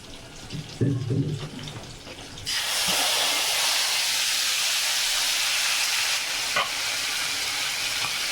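Fish fat drops into hot oil and bursts into a loud, continuous sizzling hiss that stays strong and even until the end. A short stretch of quieter kitchen sound and a brief voice come before it.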